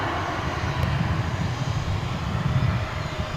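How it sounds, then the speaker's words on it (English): A Boeing 787-9 Dreamliner from Tokyo Haneda arriving at DFW airport, a loud, continuous engine roar that holds steady throughout with no speech. "This will be Dreamliner 787-9."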